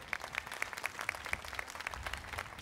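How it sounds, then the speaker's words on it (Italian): A small audience claps in a steady, regular rhythm at an artist showcase event in Saint-Vincent, the claps close and fairly even for a few seconds with no talking. "Ancora un grande applauso."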